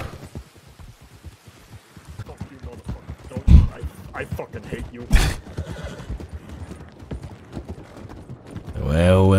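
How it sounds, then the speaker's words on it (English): Hooves clip-clop in a quick rhythm with a horse whinny in the video game Red Dead Redemption 2 roleplay, while someone talks over the sounds. "This is the slowest 2K horse ever, bro."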